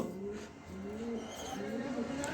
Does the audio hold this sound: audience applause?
no